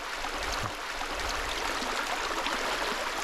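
Creek water rushes over rapids at a riverside campsite, a steady broadband rushing hiss, faint and continuous with no talk.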